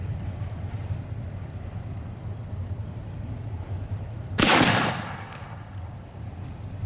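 A rifled .69 caliber musket fires a single sharp, loud report outdoors that booms and then trails off in a decaying echo, with quiet ambient hiss before and after.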